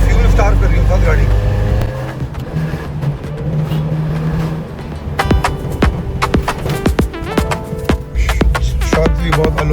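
A car engine idles and revs up close, with a steady rumble under talk and a run of sharp clicks and knocks in the second half.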